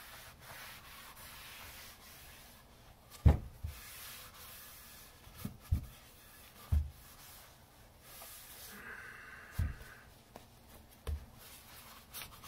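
Cloth rubbing excess finish off a wooden floating shelf along the grain, a soft steady scrubbing close by with several sharp knocks and clicks scattered through.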